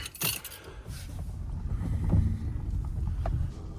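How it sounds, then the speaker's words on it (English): Wind gusts across a lakeside campsite by a beach, a low rumbling roar buffeting the microphone, rising and falling steadily throughout with a few faint knocks. "Pretty windy out there."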